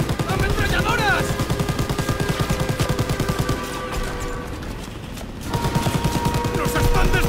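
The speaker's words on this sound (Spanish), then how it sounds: "¡Ametralladoras!" Rapid machine gun fire in a World War II battle from the game Call of Duty WW2, loud sustained bursts of regular shots with a brief lull midway before firing resumes, mixed with other battle noise.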